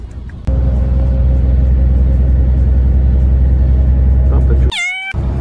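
A bus pulls up to a stop in Mikuláš with a loud, steady engine rumble that carries on without a break, then cuts off into a brief squeal near the end.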